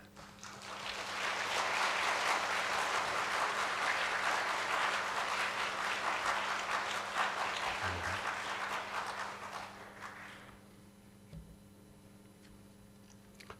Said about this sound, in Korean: 감사합니다는 마음으로 박수로 모시겠습니다.